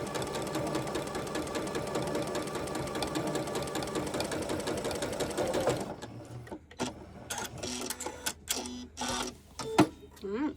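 A sewing machine stitches a quilt block in a fast, steady mechanical whirr for several seconds, then stops. Intermittent short bursts and handling clicks follow, with a voice talking during the quieter part.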